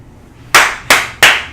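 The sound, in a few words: hand clap to mark a video edit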